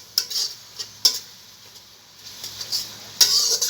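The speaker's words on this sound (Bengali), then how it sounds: "মশলাটাকে ভালো করে কষিয়ে নেব।" Spice masala sautéed and stirred in a pan for a potato and fresh okra curry, heard as several distinct scraping clinks of a spoon against the pan over a quiet low background, with no talking.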